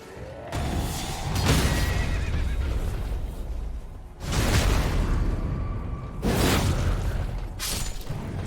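A horse in Elden Ring neighs and whinnies loudly in several long, forceful bursts, mixed with hoof clatter and whooshing game effects, with no talking.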